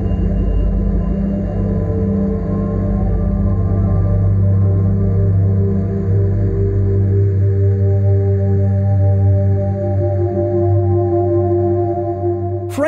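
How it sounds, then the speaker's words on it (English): Ambient synthesized soundscape called Experience the Universe, played inside a 2023 Hyundai Ioniq 6 electric sedan: a steady, loud drone of sustained low tones and shimmering layers that shifts midway, with a brief rising sweep at the very end. "My very favorite sound of nature, though, is called Experience the Universe"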